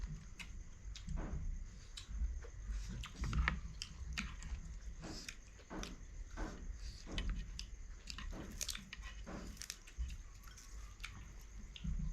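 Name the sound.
chewing crunchy liver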